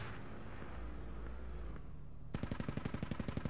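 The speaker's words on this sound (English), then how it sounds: "Hear him. Still shooting." Enemy gunfire in the military shooter Squad, a steady burst of about a dozen rapid automatic shots following a stretch of low rumbling ambience, moderately close and fairly loud.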